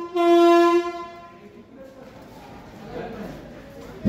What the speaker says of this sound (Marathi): धाराशिव रेल्वे स्टेशनवरून आपली ट्रेन निघालेली आहे